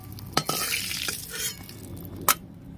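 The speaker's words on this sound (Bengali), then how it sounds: "বেগুনগুলো আমার লাল করে ভাজা হয়ে গেছে, আমি এবার তুলে নিচ্ছি।" Fried eggplant slices are lifted out of hot oil in a pan, a soft sizzle broken by a few sharp clinks of a utensil against the metal.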